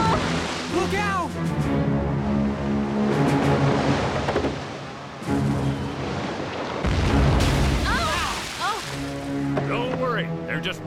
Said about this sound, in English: Oh! They're firing on us!